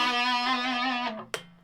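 An Ibanez electric guitar played through distortion rings out a thick sustained chord that fades after about a second, followed by a short sharp string or pick noise.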